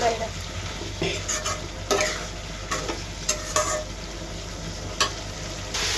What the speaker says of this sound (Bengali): মশলার সাথে ভালো করে মিক্স করে দিব